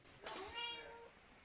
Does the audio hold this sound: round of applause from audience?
no